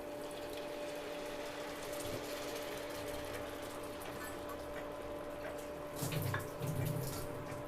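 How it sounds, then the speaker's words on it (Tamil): Soaked tamarind water is poured into a pot of village-style garlic kuzhambu, producing a faint, steady watery rush with a couple of louder splashing surges near the end. "இதில் எலுமிச்சை அளவு புளியை எடுத்து தண்ணியில் ஊற வச்சு கரைச்சிருக்கேன்,"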